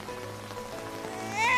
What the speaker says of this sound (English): now it's starting to rain on Suki and Chase